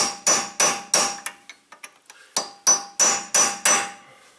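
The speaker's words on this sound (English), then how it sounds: "Take a little chisel punch and smack it a couple times." A chisel punch is hammered to restake a Subaru hub nut: about a dozen sharp metallic strikes, close and loud, in quick irregular groups with short pauses between them.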